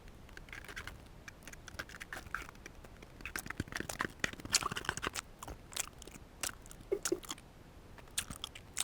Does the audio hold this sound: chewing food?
yes